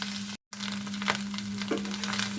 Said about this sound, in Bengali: তিরিশ সেকেন্ডের মতো আরও রান্না করে নেব ডিমটাকে।